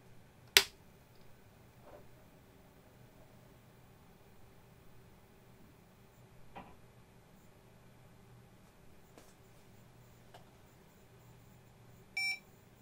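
A 32-year-old Olivetti M19 8088 computer on its first power-on gives a brief electronic beep near the end, after a sharp click and long near-silence.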